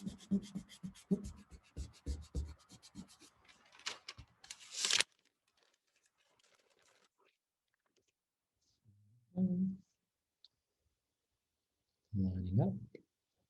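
A putty eraser rubs across paper on a geometric rosette drawing, giving about five seconds of quick, rhythmic scratchy strokes up close, then near silence broken by two short bursts of talk.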